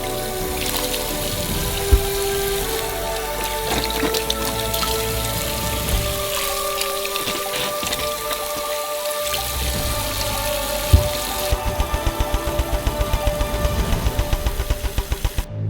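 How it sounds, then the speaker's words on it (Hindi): Oranges being washed in a sink full of water give continuous splashing and trickling, with rattling droplets and a few sharp knocks throughout. "प्रत्येक ऑरेंज को अच्छी तरह से धोया जाएगा।"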